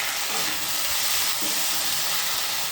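Sliced onions and green chillies fry in oil in a pan, giving a continuous close sizzle and hiss with faint stirring scrapes throughout.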